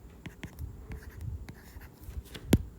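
A pen writes out math working on paper, a faint scratchy run of short strokes and ticks close by, ending with one firmer tap.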